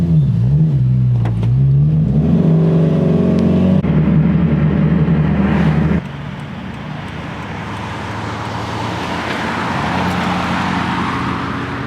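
A Nissan Skyline GT-R V-Spec at a GT-R car meet at Fuji Speedway revs with a rising engine note, then pulls away, its loud close roar fading into a broad rushing drone as it accelerates off.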